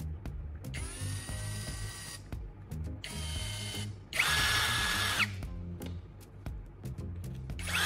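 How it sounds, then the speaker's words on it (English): A power drill spinning a carbon rod to sharpen one end whirs in several short bursts separated by pauses, the third burst louder and harsher, with clicks and handling noise in between. "I'm attaching the carbon rod to a power drill."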